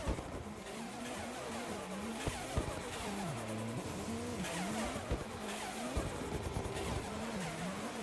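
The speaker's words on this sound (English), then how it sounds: "Damn, these cars sound crazy next to each other." Drift cars battle side by side at a competition, engines revving hard with wavering, overlapping pitch and bursts of tire squeal, loud and close throughout.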